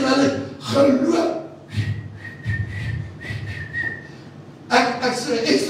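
A sustained, piercing whistle blast holds for about two seconds between bursts of loud voices, with a busy crowd rumble underneath.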